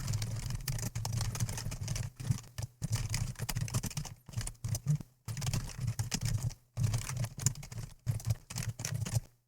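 Steady bursts of rapid keystrokes as code is typed on a computer keyboard, close and continuous with short gaps between runs, over a low constant hum and with no speech.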